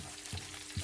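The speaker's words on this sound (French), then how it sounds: "Donc là, j'ai mis mes oignons et tout." Onions fry in oil in a pan with a steady close sizzle and faint crackle, and a stir or scrape comes through near the end.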